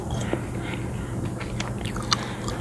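Gum being chewed close to the mic in a soft ASMR session while an Euro Truck Simulator 2 drive plays, with moist smacks and small clicks scattered over a steady low engine-like hum.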